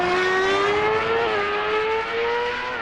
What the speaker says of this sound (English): the sound of the car on the replay